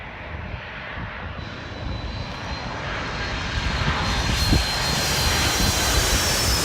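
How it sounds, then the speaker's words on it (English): A jet airplane at Washington National Airport roars past nearby, its engine whine rising in loudness with a gradual Doppler shift in pitch as it goes by, alone without talk. "Listen to the change in pitch as this plane goes by."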